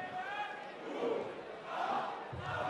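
A darts crowd at the Brisbane Convention Centre roars and cheers in swelling waves, a dense, sustained mass of voices filling the arena without a break.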